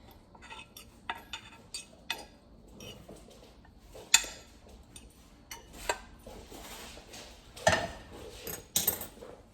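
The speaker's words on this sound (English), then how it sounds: "I'm just smashing my potatoes with a fork" Irregular clinks and scrapes of a fork against a bowl as potatoes are mashed, close up, with short bursts and pauses.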